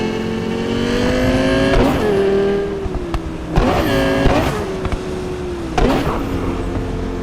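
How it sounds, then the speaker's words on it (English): A race car's engine in a Night City street race through sewer tunnels in a video game: a steady, loud motor drone with repeated sharp revving and tyre-screech bursts at regular intervals. "V slingshots past Blaine Finn in the sewer tunnels, tyres screeching as the lead grows."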